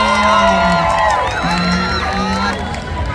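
A loud crowd at a live concert whooping, screaming and cheering together, with shouts rising over a constant roar of many voices.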